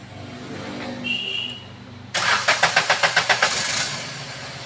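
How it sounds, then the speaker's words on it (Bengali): A 2021 used car's engine starts after a quiet pause, its starter cranking in a quick rhythmic burst of about ten beats before it catches. Heard close up. "গাড়িটা স্টার্ট করছে"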